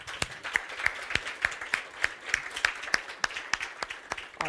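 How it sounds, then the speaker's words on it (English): A conference audience claps for the event partners, close and fairly loud, with individual sharp claps in an uneven, sparse rhythm. "Please a round of applause for all of them."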